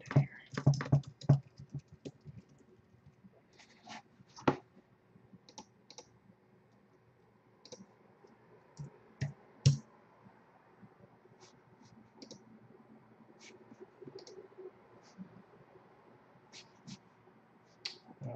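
Typing an Apple ID on a computer keyboard during a Mac password reset, scattered quiet key clicks in short bursts with pauses between them, close and soft in a quiet room.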